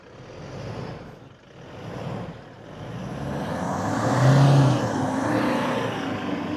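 A Toyota Hilux Black Edition crawling off-road in 4LO with the differential unlocked, its engine droning and straining steadily louder as it climbs, with no talk over it.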